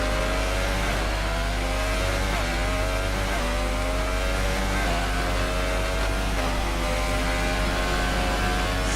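A Formula 1 race car engine in the F1 2018 video game drones loud and constant on a rainy German Grand Prix lap, pitch rising and falling as it accelerates and slows for corners.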